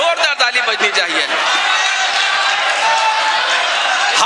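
An audience at a mushaira breaks into dense applause, starting under a fading shout and settling into a steady, loud wash of clapping that fills the room.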